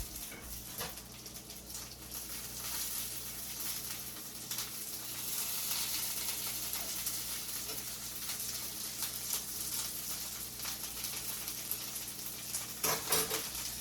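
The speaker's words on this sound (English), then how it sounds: "check this pan because I don't want the sausage to burn" Sausage frying in a pan, a steady broadband sizzle with crackling spatters that holds for the whole stretch, close and moderately loud, with no talking over it.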